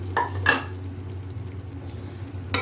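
Fried okra tipped into tender cooked chicken for masala bhindi chicken, with a few quick clattering scrapes of a spoon against the pot near the start and again at the end over a low steady hum.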